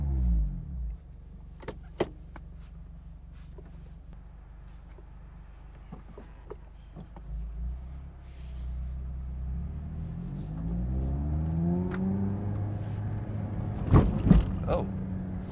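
An ND3 Mazda Miata starting off on a drive: low engine rumble rising steadily, with a few clicks and thumps early on and a louder clatter near the end, heard from inside the cabin.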